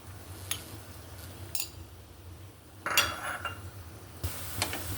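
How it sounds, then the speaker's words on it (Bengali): Onions frying in a pan with green chilies and spices, a low sizzle broken by spatula scrapes and metal clinks against the pan, close by. "পেঁয়াজটা আমি ভালো করে ভেজে নিচ্ছি"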